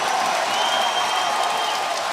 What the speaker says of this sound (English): And the crowd getting into it here early on.